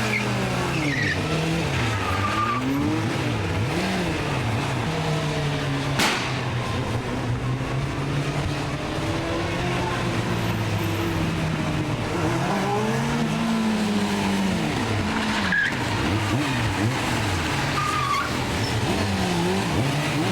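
Motorbike sliding with the rear wheel steering, engine revving hard in rising and falling sweeps with repeated tyre squeals and skids, loud and close, with a sharp crack around a third of the way through.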